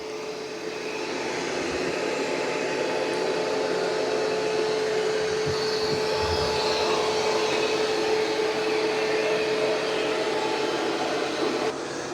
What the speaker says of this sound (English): It's pretty much got most of it vacuumed up.